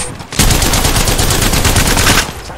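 Rapid automatic fire from a Havok energy rifle fitted with a turbocharger in the Apex Legends video game, a dense continuous burst lasting about two seconds, loud and close with no talk over it.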